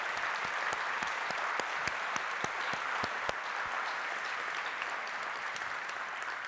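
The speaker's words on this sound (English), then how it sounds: "Let's give them a nice round of applause" A nice round of applause for sponsors at a hospice fundraising event, even steady clapping from a sizable audience in a large room, with crisp individual claps popping out of the dense wash and no talking.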